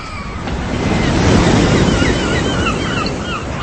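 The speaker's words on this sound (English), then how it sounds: "It was wet and windy." Steady wind gusting across the microphone over the broad, continuous rush of surf, loud and unbroken with no voices.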